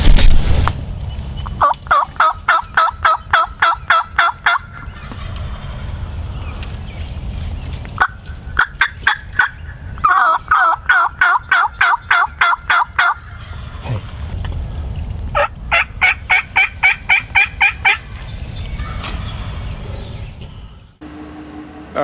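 Wild turkeys gobble repeatedly during a Massachusetts opening-day spring hunt, several clear bursts of rapid rattling gobbles answering one another at moderate distance, with pauses between rounds and low background rumble.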